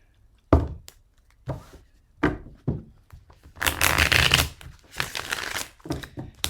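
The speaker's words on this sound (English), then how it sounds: "Sorry you didn't see me shuffle it, but you could hear it, right?" Playing cards are riffle shuffled close up: quick bursts of fluttering, crisp riffling, with a few soft taps and knocks between shuffles.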